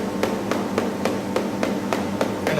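A cheese wheel tapped by an expert checking its soundness, about eight evenly spaced sharp knocks over a steady background hum, close and clear with no talking.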